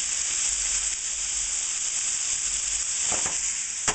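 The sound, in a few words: beef and vegetable stir fry sizzling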